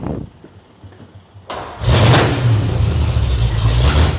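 A vintage car fitted with a 1939 three-speed gearbox with Zephyr gears is started: a quiet low rumble of cranking, then the engine catches and settles into a loud, steady idle up close.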